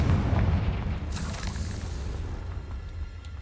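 A Confringo fire spell goes off in Hogwarts Legacy as a loud, booming blast, its burst of fiery noise fading into a low rumble over a few seconds.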